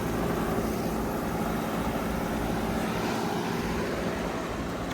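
Two 2015 Carrier Comfort heat pumps with scroll compressors running outdoors, a steady broadband whoosh of fan airflow over a constant low mechanical hum, unchanging throughout and with no voices.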